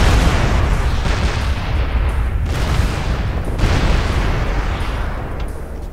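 Missile salvo from a Catapult mech in MechWarrior Living Legends: loud, dense rumbling barrage with repeated booming launches and blasts, continuous across the clip with sharper bursts near the middle.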